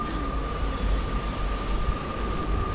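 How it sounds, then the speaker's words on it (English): A train rumbles past very close on the railway beside a walking route in Aberdeen, a steady loud roar with a sustained tonal whine throughout, heard alone without talk. "just as the train passes there, you can see how close we are to the railway there."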